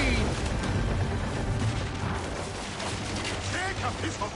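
Cannon fire during a galley naval battle in Assassin's Creed Origins: heavy, rumbling booms and blasts wash continuously over several seconds, with shouting voices mixed underneath.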